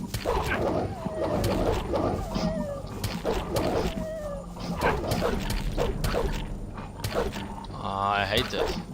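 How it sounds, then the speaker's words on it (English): Orc dogs in the video game Gothic snarl, yip and bark in repeated animal cries over a busy game soundscape, with voices heard alongside. "just orc hounds, orc dogs,"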